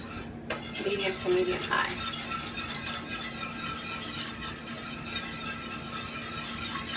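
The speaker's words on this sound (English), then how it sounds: "I'm going to just take a second and whisk this and start getting these clumps broken up a bit" A whisk scraping and stirring through thick vegan mac and cheese sauce in a pot on a stovetop at medium heat, with steady close clinking and swishing throughout and a few brief squeaky tones early on.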